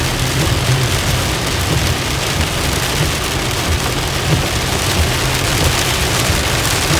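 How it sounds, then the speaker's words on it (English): Steady heavy rain drums down on a beach campsite at a national seashore, a dense continuous hiss and patter with low rumbling underneath and no voices. "But rain's picking up."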